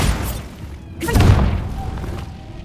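A Bombarda blast spell in Hogwarts Legacy goes off as one loud, deep boom in the middle, then rumbles away beneath ongoing game ambience.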